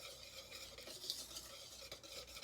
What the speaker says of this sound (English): we literally just need to whisk it all up